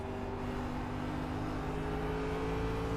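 A high-power, low-downforce NASCAR Cup car in a racing video game at Phoenix lifts off the throttle, its engine drone steady and close with sustained tonal harmonics and no voices.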